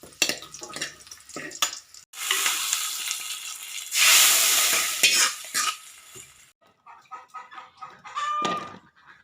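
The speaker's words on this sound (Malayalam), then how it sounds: "ഇനി ഇതൊന്ന് താളിച്ചെടുക്കാം കേട്ടോ ഇതിലേക്ക് രണ്ട് ചുവന്ന മുളക് ഇട്ട് കൊടുക്കാം" Red chilies sizzle and crackle as they drop into hot oil for tempering a drumstick curry, two loud bursts of frying with stirring and scraping between them, close and without talk.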